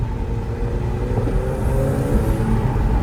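A McLaren 720S twin-turbo engine drives through the night in a steady, loud low rumble that swells slightly partway through, with a faint high whistle on top.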